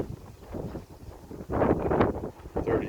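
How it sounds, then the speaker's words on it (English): Strong wind gusts across an open farm pasture where cows graze beside a hoop house, blowing in rough, uneven buffets against the microphone. "The wind is really getting up."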